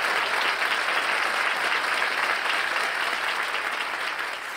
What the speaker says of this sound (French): Un grand applaudissement pour notre Seigneur.